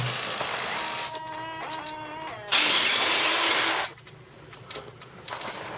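Landing gear servo on an RC T-28 model plane whirring in bursts, with a steady mechanical hum and a louder harsh buzzing stretch midway before fading to quieter motor noise.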